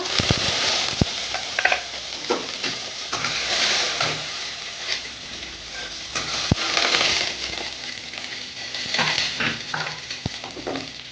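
Nigella seeds and slit green chillies fry in hot oil over a medium gas flame, a steady close sizzle with scattered sharp pops and crackles and occasional stirring clatter, no voices.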